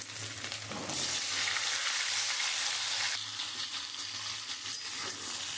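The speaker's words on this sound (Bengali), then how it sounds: "আমি ওই তেলের মধ্যে আমি ওই গাঁটিগুলো দিয়ে দেবো। আমি একটু লাল লাল করে ভেজে নেব।" Taro pieces fry in hot oil seasoned with cumin and bay leaf, giving a steady close sizzle that swells louder for a couple of seconds before settling back to a constant crackle.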